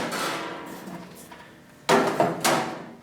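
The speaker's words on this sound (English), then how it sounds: "I hammer it over, keeping it smooth on one side" A few sharp metallic hammer blows fold aluminum sheet over an edge on a 1937 Studebaker body, three distinct strikes ringing close by near the end following a quieter scraping stretch.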